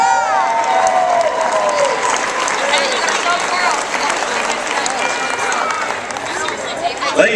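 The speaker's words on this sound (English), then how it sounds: "let's have a big round of applause" A crowd applauds and cheers at a 2010-11 Tarleton TexAnn championship ring ceremony, a sustained, loud wash of clapping and shouts filling the hall with a voice over the din.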